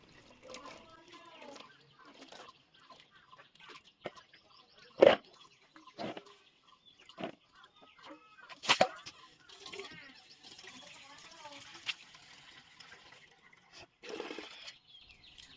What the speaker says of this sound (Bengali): তার জন্য আমি কুলগুলো সবার প্রথমে ধুয়ে নিচ্ছি খুব ভালো করে।